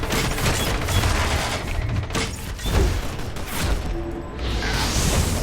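Dual pistol crossbows firing in DC Universe Online, a rapid run of sharp mechanical shots and whooshing impacts, loud and near, repeating in clustered bursts throughout with no talk over them.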